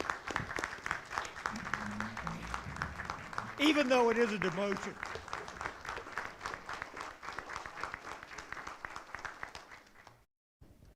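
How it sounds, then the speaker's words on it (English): Applause from attendees at an executive committee meeting, a steady wash of clapping running through most of the stretch beneath ongoing talk and a prominent voice, fading out near the end. "And I think he deserves a round of applause"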